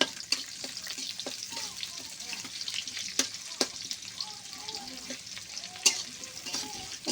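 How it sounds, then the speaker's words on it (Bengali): Chopped onions fry in hot oil in a wok with a close, steady sizzle broken by crackles and pops, plus faint stirring clatter and a few quiet voices in the background. "এই পেঁয়াজ 3টে লাল লাল করে ভেজে নেব একটু।"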